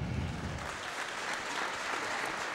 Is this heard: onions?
no